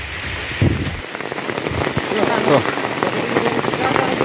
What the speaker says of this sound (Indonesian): Menuju pos 2, hujan turun deh.